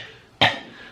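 One short, sharp cough bursts out up close after a quiet moment, then quickly fades.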